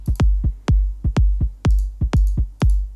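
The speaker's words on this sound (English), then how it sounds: "And then finally some little toms." Small toms added to an electronic drum track in a dance remix, struck in a quick syncopated pattern of punchy, resonant hits, loud and close with no other voices.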